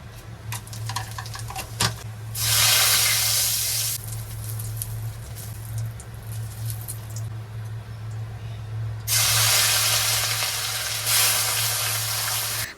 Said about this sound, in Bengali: গোটা জিরা গোটা গরম মশলা আর তেজপাতা ফোড়ন দিয়ে তারপর কাঁচা লঙ্কাগুলোও দিয়ে দিলাম